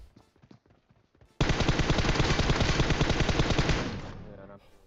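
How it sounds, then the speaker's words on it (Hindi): After a few faint sounds, a sustained burst of rapid automatic gunfire erupts loudly in PUBG Mobile and rattles continuously for nearly three seconds before cutting off. "क्योंकि आगे भी गोली चल रही थी बिल्कुल"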